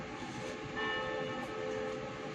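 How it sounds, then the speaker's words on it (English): St. Clement's Church bells ringing at five in the afternoon, sustained tonal peals under a steady wash of ambient noise, moderately distant and fairly faint. "if you can hear the bells, the church bells"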